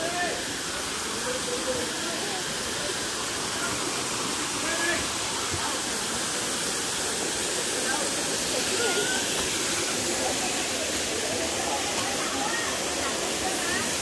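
Đắk Mai waterfall in Bù Gia Mập pours in a constant, broad rushing roar that stays even for the whole stretch, with faint voices of visitors underneath.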